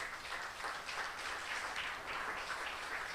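A church congregation gives a sustained round of applause during a sermon, a fairly faint, even wash of many hands clapping with slight rhythmic swells and no speech.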